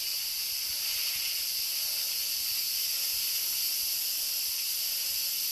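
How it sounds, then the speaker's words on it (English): Steam hisses out of an Instant Pot cooking pasta in a loud, continuous rush that holds steady and close for several seconds with no other sound. "let the steam go"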